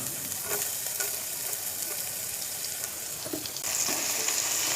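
Onions tipped into hot oil with fried cumin seeds and curry leaves for an eggplant curry, giving a steady, fairly loud sizzle with occasional stirring scrapes and a brief surge of crackling near the end.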